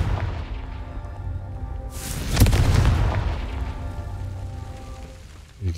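A Confringo fire spell bursts in Hogwarts Legacy as a single loud booming explosion with a long rumbling tail, set against steady ambient game background sound.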